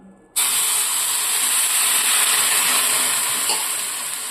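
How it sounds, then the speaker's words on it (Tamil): A sudden loud hiss and sizzle as water hits a hot pan, bursting in sharply and holding steady, then easing off slightly at the end. "இந்த ஸ்டேஜில் ஒரு டம்ளர் தண்ணி இந்த அளவு ஊற்றிக்கணும்."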